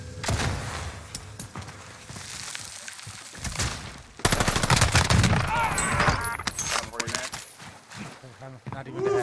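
Video game gunfire comes in rapid automatic bursts, with a brief lull before a loud, dense barrage, mixed with clatter and overlapping game noise throughout.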